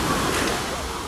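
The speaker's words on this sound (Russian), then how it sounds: "И вот такой вот волночки небольшие" Small sea waves washing onto a beach in Alanya, a steady broadband wash of surf with no distinct breaks, fairly close and moderately loud throughout.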